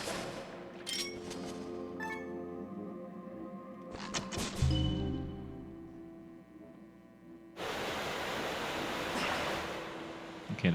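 Water level rising in The Legend of Zelda: Skyward Sword HD's Skyview Temple: scattered clinks and thuds give way to a steady, loud rushing surge of water that fills the second half of the passage, with no talk.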